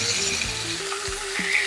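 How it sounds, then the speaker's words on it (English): Burger patties sizzle loudly on a hot griddle as a spatula presses them down, with a continuous frying hiss and a few scraping knocks of the metal spatula. "we are gonna press these guys down"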